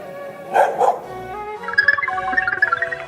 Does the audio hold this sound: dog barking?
yes